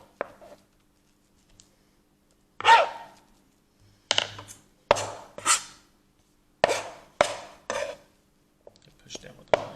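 A knife pressed down through dough onto a cutting board, giving a series of sharp, close knocks and taps at uneven intervals with quiet pauses between them.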